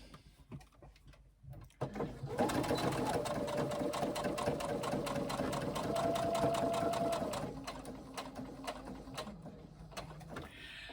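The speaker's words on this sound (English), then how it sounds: "And sew down the side seam." A sewing machine runs a tote bag's side seam in a steady, loud mechanical whir with rapid needle clatter, slowing briefly and ending in a few lighter clicks.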